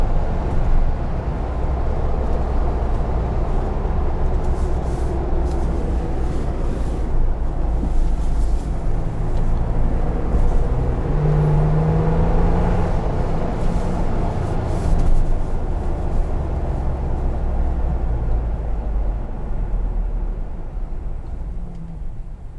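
A 2021 Ford Bronco Black Diamond Sasquatch two-door with the 2.7 engine, driving steadily with a constant low rumble and road noise heard from inside the cabin, with no talk.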